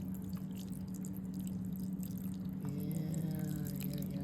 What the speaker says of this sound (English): All right, just a little bit, pour it in there.